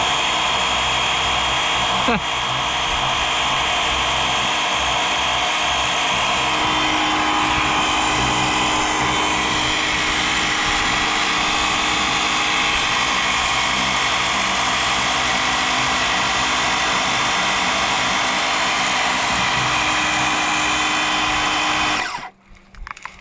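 A Dewalt 20V cordless power washer sprays grease off a surface with a loud, steady hissing roar that runs almost unbroken. It stops abruptly near the end, and no talk is heard.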